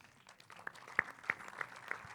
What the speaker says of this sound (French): Et qu'on peut applaudir.